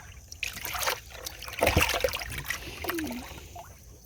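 Water trickles and splashes into a poultry waterer in short uneven bursts, close by and fairly quiet, with a faint gurgle toward the end.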